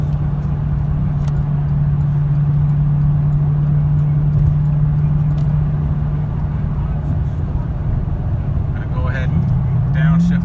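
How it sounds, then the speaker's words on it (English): A Cadillac CTS-V wagon cruises on a cool day in Richmond with a steady low engine hum and road noise inside the cabin, ending in a brief rise in engine pitch as it downshifts. "Downshift the car."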